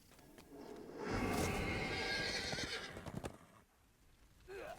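A horse in the Dungeons and Dragons Online video game gives a loud, drawn-out whinny over hoof clip-clops, then the sound fades toward quiet.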